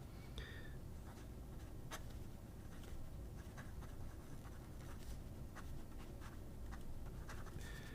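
A medium-nib fountain pen, model 139, scratches across paper in faint close strokes, soft scritching against a steady low background hiss with a few sharp ticks.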